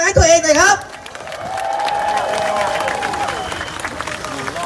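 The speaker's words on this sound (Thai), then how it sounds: "ปรบมือดังๆให้ตัวเองหน่อยครับ" A crowd of protesters claps together at an outdoor morning rally in Thailand, a broad wash of applause rising after a short burst of voice and continuing steadily, fairly loud with a murmur of crowd noise.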